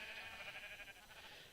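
Blocky Minecraft sheep bleat in a modded tech world, a single faint, wavering bleat that carries on briefly at low volume.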